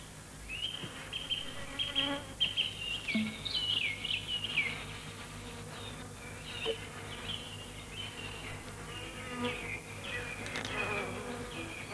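Honeybees buzz close by with a wavering, rising and falling drone as individual insects pass near and away, over a quiet outdoor background.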